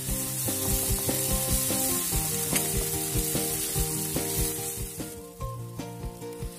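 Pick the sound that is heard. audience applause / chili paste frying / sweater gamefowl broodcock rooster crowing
chili paste frying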